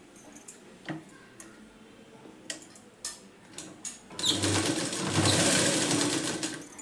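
A sewing machine stitches blouse lining, running in a steady whirring burst during the last few seconds after scattered handling clicks and taps. It is moderately loud and close, with no talk.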